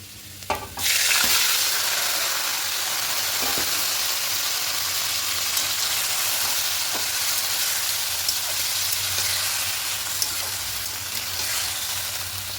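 Marinated chicken is dropped into a hot pan, setting off a sudden loud, close sizzle that continues steadily, with faint stirring scrapes underneath.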